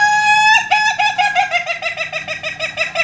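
A rooster crows loudly and close, one long call followed by a rapid, regular run of clucking notes that lasts about two and a half seconds, with no voices.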